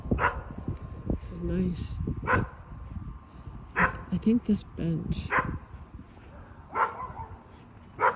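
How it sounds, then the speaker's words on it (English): Several neighborhood dogs bark from a distance in scattered bursts and short chorus-like runs, while someone talks nearby outdoors. "now every dog in the neighborhood is joining in as a chorus"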